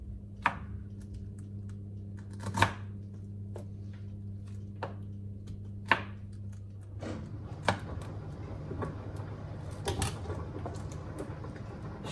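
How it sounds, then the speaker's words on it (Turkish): A knife chops pineapple on a board for a cake in a few sparse, sharp cuts spaced seconds apart, over a steady low hum, with no voices. "Tabii ki onu doğrayarak koyacağım."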